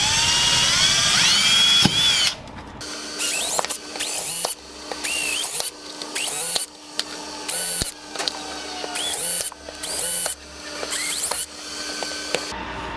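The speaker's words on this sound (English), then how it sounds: "And we're just drilling on one side." A power drill bores holes along one side of a PVC pipe: a high motor whine first, then repeated short bursts of drilling with pauses between, each burst a close, loud grinding whir.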